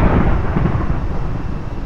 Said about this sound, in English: I just had Thunder crash right in my intro.